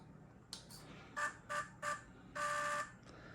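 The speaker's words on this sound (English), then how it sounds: "there's our Hobbywing doing its little beeps" A Hobbywing FusionPro speed controller in an RC truck beeps as it powers on: a short series of separate electronic beeps followed by one longer tone, close and clear over quiet background.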